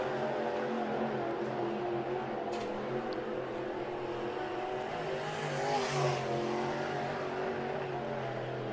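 A dirt late model race car lapping a dirt oval at Atomic Speedway, its engine a continuous rough roar that holds steady from a distance, swelling slightly as it comes nearer mid-lap.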